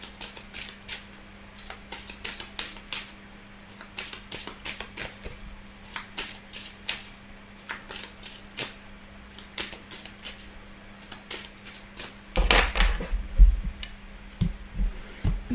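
Tarot cards being shuffled and drawn, a long run of quick crisp flicks and slaps close by, ending in a louder rustling burst as cards are handled.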